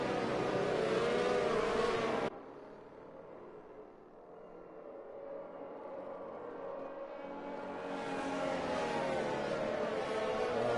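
Race cars in the F1 2019 video game at a Grand Prix restart under green flag, engines droning loudly, then dropping away to a quieter rumble before building back to a full roar of several cars.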